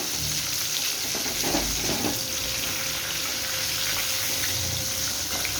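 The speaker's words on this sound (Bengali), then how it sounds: "এবার হালকা হাতে মাছগুলোকে একটু উল্টে নেব।" Rui or katla fish frying in a pan as the pieces are gently flipped, a steady close sizzle with a few soft clatters and stirring scrapes, a faint hum beneath, no talking.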